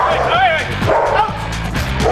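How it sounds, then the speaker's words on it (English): Several military working dogs bark and yip excitedly at a troop entertainment event, with rapid, overlapping bursts, close and loud, while people talk over them. "Is that why the dogs are a little fired up?"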